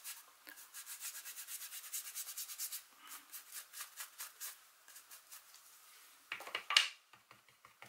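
Dry paint rubbed onto a surface with the bristles of a paintbrush in a papercraft project, giving a quick series of soft, close, rhythmic scrubbing strokes, then a short pause and a few scattered brushes and taps.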